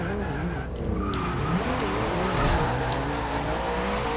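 Tires squeal and skid as the Bumblebee Camaro Z/28 drifts in Forza Horizon 2, with a loud engine roaring continuously under the tire noise throughout.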